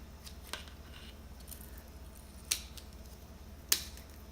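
Dried brown roots of a Phalaenopsis moth orchid trimmed off during repotting, with three sharp, brief snips spaced over a few seconds against a quiet background.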